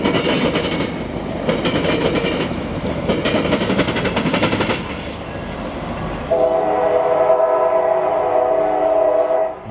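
A CSX Tri-Rail train passes through a crossing with the FEC line, its clattering wheels and rumble loud and close, followed by a long, steady multi-tone horn blast that holds to the end.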